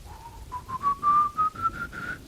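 A man whistles a slow rising tune imitating El Silbón, the whistling figure of Latin American folklore, the clear tone climbing steadily in pitch across several connected phrases with no talk.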